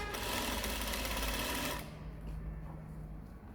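A sewing machine stitches a dress seam with a fast, steady mechanical whir up close, running for nearly two seconds before stopping, leaving a quiet room with faint handling sounds.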